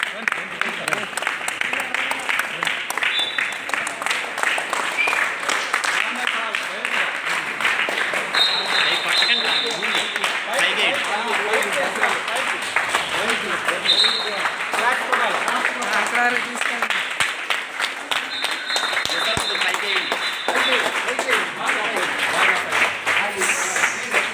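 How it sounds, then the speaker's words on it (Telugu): Crowd applause at a karate demonstration event in Tadepalligudem, a dense, steady wash of clapping lasting the whole stretch, with voices mixed in underneath. "వేసిన తర్వాత క్లాప్స్ కొట్టండి అందరూ"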